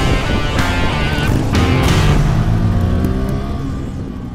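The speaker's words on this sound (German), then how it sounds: "So, Leute, Probefahrt auf der Swartpillen 125." A Husqvarna Svartpilen 125 naked motorcycle on a test ride, its single-cylinder engine droning loudly and steadily up close, pitch rising and shifting as it accelerates, with wind rush and no talk.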